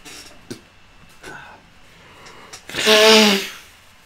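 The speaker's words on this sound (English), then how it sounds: "Blowing your nose live stream." A few soft sniffs and small noises, then one loud, forceful nose blow lasting about a second, close and clear.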